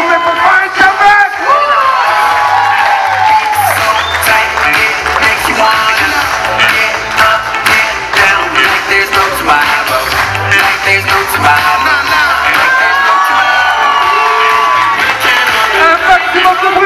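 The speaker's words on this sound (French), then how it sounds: "Et un peu d'applaudissements, s'il vous plaît, pour Fine Comeback." A large crowd at a public event in Chanteloup-les-Vignes cheers, whoops and shouts loudly and continuously, a dense roar of voices sustained from start to finish.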